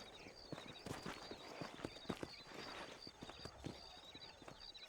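Horse hooves clip-clopping in Red Dead Redemption 2, a quick irregular run of faint, crisp hoofbeats on hard ground with light background ambience.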